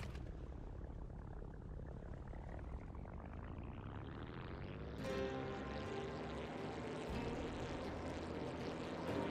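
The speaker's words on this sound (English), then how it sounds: "so let's rev the engine" A vehicle engine in the Brew Barons video game revs with a steadily rising whine. It then shifts into a louder, steady drone, and no voices are heard.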